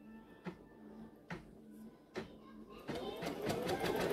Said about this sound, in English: So now I'm just going to put it down and stitch again.